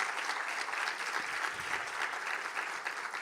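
At a regional women's health dialogue in East Africa, the audience gives a steady, even round of applause for the sign language interpreters. The dense clapping stays consistent from start to finish.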